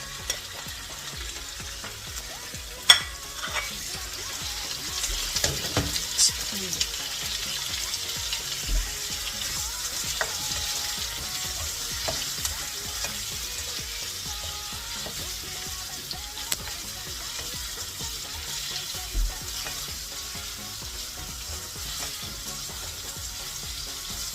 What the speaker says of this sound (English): so we are putting the shrimps and the calamari